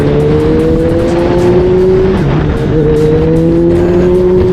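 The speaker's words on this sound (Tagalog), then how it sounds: "medyo binirit ko muna ng konti dito para medyo pumwersa yung ating sasakyan natin sa ating motor" A motorcycle engine drones loudly and continuously while riding on an expressway, holding a strong steady tone that dips briefly in pitch midway before climbing again, with wind and road noise underneath.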